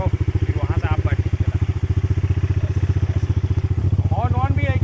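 A motorcycle engine idles with a steady, fast chugging throb at the start of a ride, close and loud, while people talk over it.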